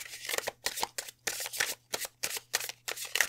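A deck of tarot cards is riffled and shuffled close up, with a rapid series of crisp papery bursts separated by brief pauses, about a dozen quick flutters in a row.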